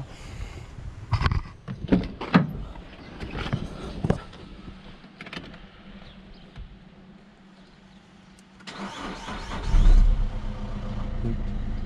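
A Peugeot 308 with the 1.6 HDi diesel engine cranks and fires on a good battery, a loud burst near the end settling into a close, steady idle after a stretch of quieter clanks and workshop handling.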